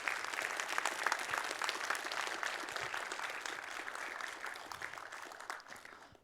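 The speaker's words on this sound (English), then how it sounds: "please give a big round of applause for Dmitry" An audience at a programming conference session applauds a speaker, a dense, even wash of clapping sustained for several seconds before tapering off at the end.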